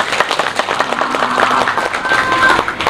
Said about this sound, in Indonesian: Ayo, tepuk tangan untuk Yayasan Ibnu Fuad.